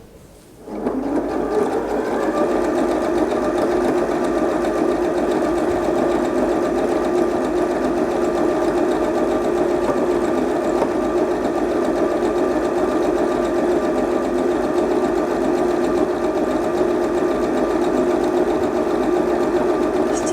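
A Janome DXL603 sewing machine stitching stretch knit fabric starts up and then runs with a steady, even mechanical whir and hum for the rest of the clip.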